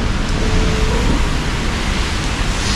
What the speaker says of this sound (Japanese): しかし雨強いね。